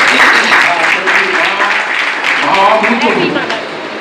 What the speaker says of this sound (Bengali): মায়েদের জন্য একটা জোরে হাততালি হয়ে যায়।